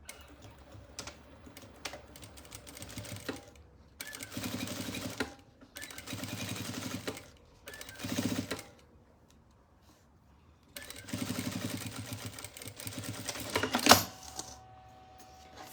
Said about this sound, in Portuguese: Então, vou vir e vou fazer uma costura.